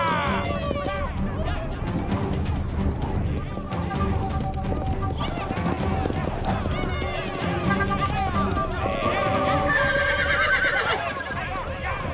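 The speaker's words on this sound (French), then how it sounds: "Ils vont rabattre les chevaux et les coincer contre la falaise." A herd of horses driven toward a cliff gallops in a continuous drumming rumble while several animals whinny and neigh loudly, calls overlapping near and far, with voices and shouting mixed in over the running hooves.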